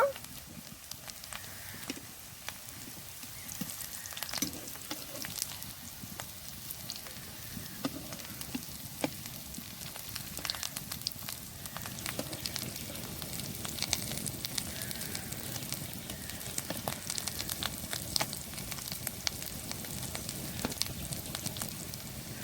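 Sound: potato snack frying in oil

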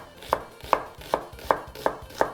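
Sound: chopping onion with a knife

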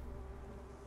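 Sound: buzzing flies in the video game Dying Light

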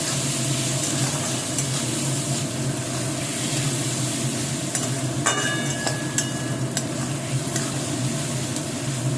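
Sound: frying with garlic in pan

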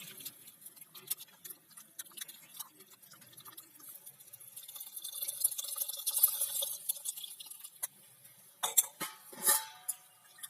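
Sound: tamarind water poured into bitter gourd curry on wood stove

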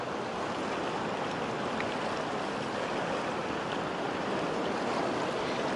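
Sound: river rapids on the Katun river

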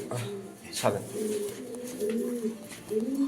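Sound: pigeons cooing

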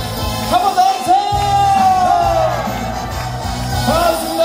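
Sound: audience cheering and shouting at a singing class

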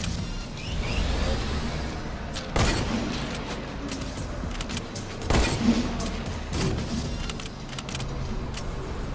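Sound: hunting rifle shots in video game

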